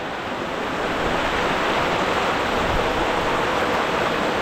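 Heavy rain pours down in a village, a dense, loud, unbroken roar of falling water that holds steady throughout with no voices.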